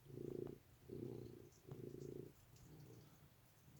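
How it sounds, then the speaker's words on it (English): A friendly cat purrs softly and close by in slow, rhythmic pulses, with four distinct breathing cycles of low rumbling and no talking. "If you hear purring like crazy,"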